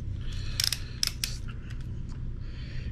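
Screws are threaded into the plastic housing of a Kenmore Progressive canister vacuum cleaner under repair, giving close, crisp ratcheting clicks and creaks in short bursts followed by fainter scraping.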